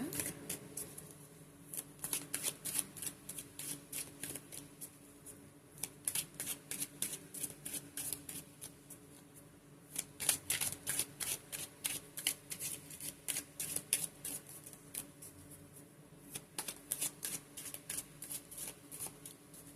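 A Romance Angels oracle card deck is shuffled by hand in close, crisp bursts of riffling and slapping cards, repeating in quick rhythmic runs with brief pauses between.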